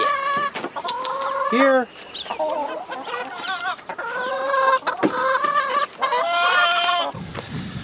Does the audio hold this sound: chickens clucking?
yes